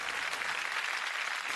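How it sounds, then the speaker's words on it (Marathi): Loud, dense applause from a studio audience at a Marathi singing competition, steady and sustained throughout with no pauses and no talk over it. "एकदा अंजलीसाठी जोरदार टाळ्या"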